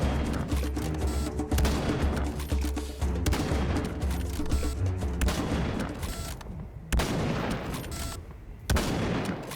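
Serious Sam 3: BFE sniper rifle shots fire in loud, close succession, dense booming reports layered over continuous game noise with brief gaps between bursts.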